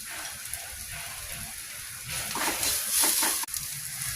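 Masala with turmeric and salt frying in a pan, a steady close sizzle that swells louder toward the end with faint stirring scrapes, no voices.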